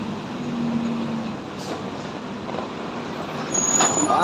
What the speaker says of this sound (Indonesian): Pantauan kita pagi ini bosku, truk trailer.